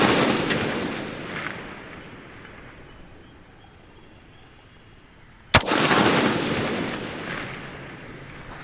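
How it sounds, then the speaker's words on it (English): A .22 rifle fired at long range outdoors gives a single sharp, loud crack in the middle, with a long echoing rumble rolling away across open ground before and after it. "we were just using the 22 just to lob it way out there"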